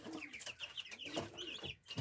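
A broody hen with her newly hatched chicks clucks close by in soft, repeated bursts, with thin chick peeps mixed in.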